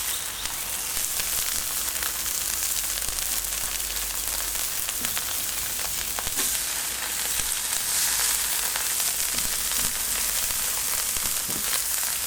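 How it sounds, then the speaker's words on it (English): Homemade hamburger patties sizzle on the griddle of a pellet grill over smoking wood pellets, giving a steady, dense crackling hiss that runs on without pause and with no talk. "I'm cooking on the griddle."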